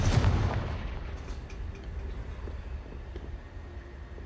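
Confringo explosive spell cast in the video game Hogwarts Legacy: a loud booming blast at the start, then a rumbling tail that fades into low ambient noise.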